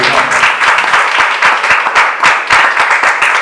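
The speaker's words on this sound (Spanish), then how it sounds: "Un aplauso, Señor." Loud, dense applause fills a church, many hands clapping close together in a steady, sustained burst with no voices over it.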